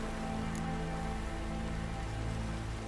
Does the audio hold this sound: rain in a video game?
yes